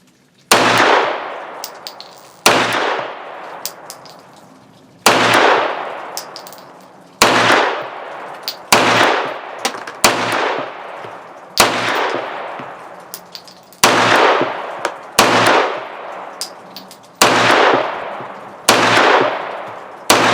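Taurus PT92 9mm pistol firing steel case ammunition outdoors: about ten loud, sharp shots spaced irregularly one to three seconds apart, each with a long ringing decay, no talking.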